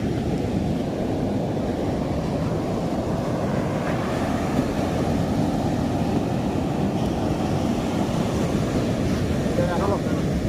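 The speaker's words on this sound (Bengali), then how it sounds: "এই ঢেউটা সব থেকে বড় বড় ঢেউ দেখা যাবে" Large ocean waves roar in a continuous, heavy wash of surf, mixed with buffeting wind noise, steady and loud with no distinct breaks.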